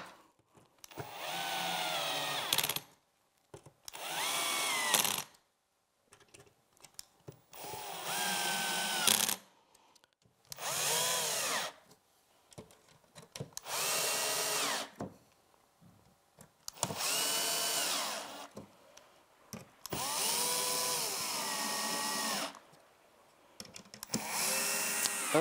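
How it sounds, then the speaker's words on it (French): A cordless power screwdriver drives screws into the plastic housing of a Clay Paky HY B-Eye K25 moving-head light, whirring in about nine separate loud bursts of a few seconds each, separated by short pauses, with no talking. "Je commence à visser avec la visseuse."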